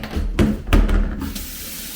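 Water keeps running and splashing from a leak even after the supply has been turned off. The flow is loud and close, with a few sharper surges.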